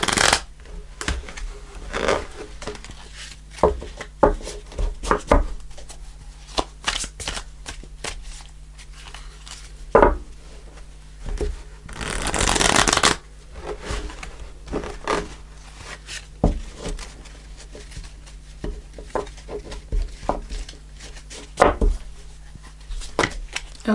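Tarot cards are shuffled in a series of close, crisp riffling and slapping bursts, irregular in rhythm, with one longer riffle partway through and soft handling sounds between.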